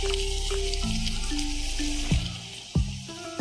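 Surmai (kingfish) fillets frying with garlic in a pan, a continuous close hiss and sizzle with a few sharp clatters near the end.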